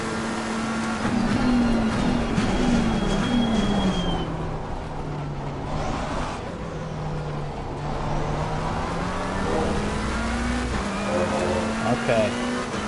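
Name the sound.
McLaren race car engine in Assetto Corsa Competizione video game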